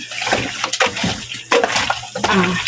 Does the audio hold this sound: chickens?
no